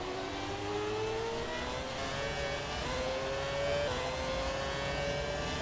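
A 1992 Williams FW14B Formula 1 car in the F1 2017 racing game, its high-pitched engine wailing loud and close as it climbs steadily through the gears, each upshift dropping the pitch before it rises again.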